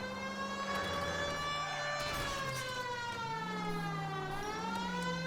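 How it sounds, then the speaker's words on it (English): A loud, continuous wailing police siren from the video game L.A. Noire sweeps up and down in pitch, close and steady throughout, with no voices. "We have the sirens on, so it's perfectly legal."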